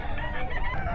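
At a fowl market, chickens and roosters cluck and crow loudly and close at hand, a dense overlapping clamour filling a brief moment.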